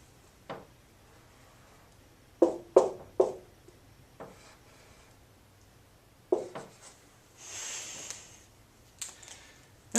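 Pen or marker writing out a math solution, a series of short scratchy strokes and taps in irregular bursts with pauses between, close and fairly quiet, with no voice.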